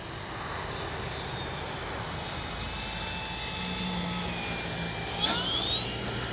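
An FMS 1400mm F4U Corsair RC model warplane makes a touch and go, its electric motor whining steadily with shifting pitch, near and continuous over outdoor wind noise.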